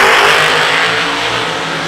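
An old second-generation Chevrolet Camaro drag car roars down the strip, a loud, dense engine blare that stays strong throughout and eases slightly toward the end.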